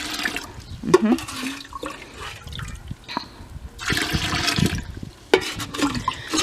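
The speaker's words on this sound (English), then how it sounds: "I'm going to use all this rainwater today" Rainwater poured from a barrel onto garden plants gushes and splashes in heavy surges, rising and falling in loud close bursts with brief trickling lulls between pours.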